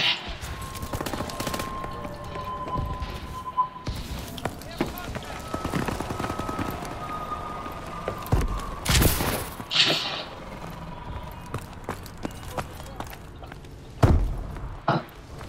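Gunfire in the Call of Duty Advanced Warfare game comes as scattered bursts of sharp shots and a few heavier booms, some near and loud, some fainter, mixed with speech throughout.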